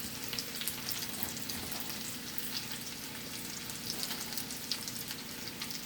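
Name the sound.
sautéing garlic in a pan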